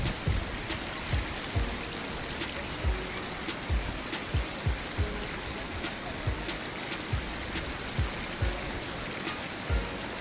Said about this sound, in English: Lynette, we are by Umvumbumbu River in Mtambara area. That's where we are. So this is the bridge.